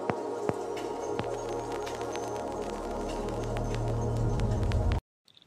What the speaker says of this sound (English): So the chords and the Foley together sound like this.